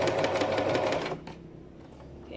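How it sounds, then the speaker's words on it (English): A sewing machine stitches a zip into fabric with a brief, close, rapid whir lasting about a second, then stops, leaving quieter handling sounds. "Remember, reverse stitch. So I sew until the end."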